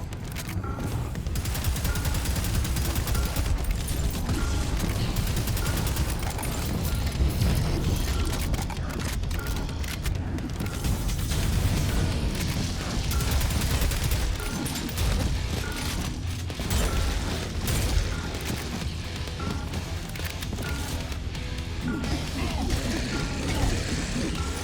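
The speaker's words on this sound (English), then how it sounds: "I do have to give huge props to Proteus for having some amazing sound design for the weapons." Weapons fire in the early-access shooter game Proteus, a loud, continuous barrage of rapid gunshots and blasts with game effects layered throughout, sustained without pause.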